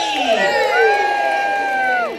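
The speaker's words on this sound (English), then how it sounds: "A big cheer for Jenny." Audience at a Butlins family show cheering for a child named Jenny, a loud sustained crowd roar with whoops and children's shouts, a host's voice rising above it.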